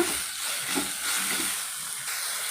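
Red chutney ingredients with turmeric fry in a pan, giving a soft, continuous sizzling hiss that swells and eases a little, fairly close and steady, with no voices.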